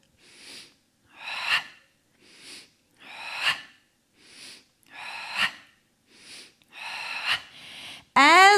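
Breathing during a Pilates mat exercise: slow, audible inhales and exhales alternating in an even rhythm, about eight close breaths, with a brief bright sweeping sound at the very end.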